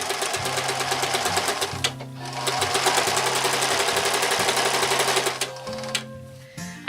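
A sewing machine stitches a lace-trimmed bed ruffle on a historical nightgown project, running in steady rapid bursts with brief pauses between seams, close and clear with no talking.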